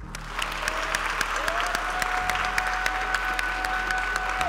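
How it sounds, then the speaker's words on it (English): Steady applause from a crowd at the World Schools Debating Championships closing ceremony in Serbia, continuous clapping with many hands, fairly loud and sustained, with a faint tone humming underneath. "please join me in a special round of applause"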